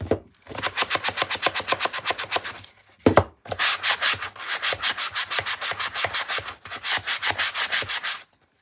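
Rhythmic back-and-forth sanding on the surfaces of a planner card box, brisk evenly spaced strokes in two runs with a short pause between, close and fairly loud with no talking.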